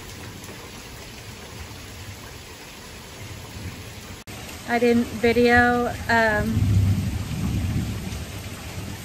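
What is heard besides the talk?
thunder and rain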